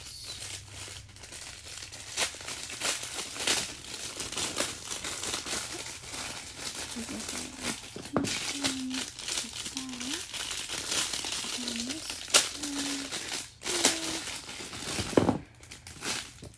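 Plastic packaging around mini popper fidget toys crinkles and tears up close in bursts of crumpling, with quiet voice sounds faintly underneath.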